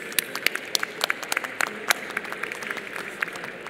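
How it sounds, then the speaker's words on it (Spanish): Audience at a panel event applauding, a sparse scatter of individual claps from a modest crowd, moderately close and uneven, with a faint voice underneath. "Un fuerte aplauso para ustedes."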